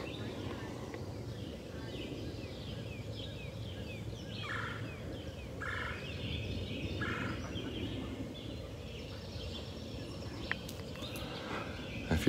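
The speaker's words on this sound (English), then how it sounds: "I'm just gonna sit here for a second and let you listen to the birds." Birds calling outdoors on a spring morning at a residential open house in Woodbine, with a turkey-like gobbling burst in the middle over steady broadband outdoor noise and scattered higher chirps.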